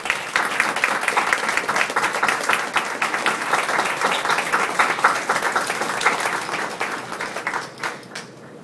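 A gym crowd gives sustained applause for the coaches, parents and community of a state champion girls varsity basketball team, many hands clapping densely and loudly before fading out near the end.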